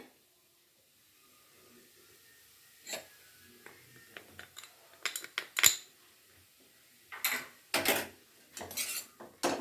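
A spoon scrapes and clinks against a pan while garam masala is stirred, giving sparse, close metallic taps and scrapes in short bursts that are separated by near silence.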